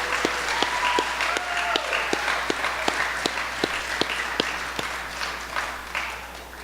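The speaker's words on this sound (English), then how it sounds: "Round of applause again" Sustained audience applause at a school year-end banquet, a dense wash of many hands clapping with a few sharper individual claps standing out, steady and fairly loud throughout.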